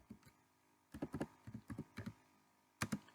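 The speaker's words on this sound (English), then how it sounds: "So I will type here Google." Computer keyboard typing in short separated groups of crisp taps, spaced out over a few seconds with quiet gaps between, near and distinct, no talking.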